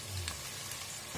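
Garlic and tomato paste fry in a pan with a soft, steady sizzling hiss, faint and brief, with no voices.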